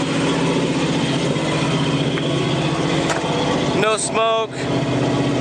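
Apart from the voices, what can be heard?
car engine idling after starting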